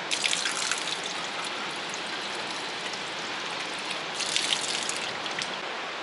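Mineral water from a spring tap in Zelenogradsk pours in a constant close splashing stream, a bright hiss that holds steady throughout with no talk.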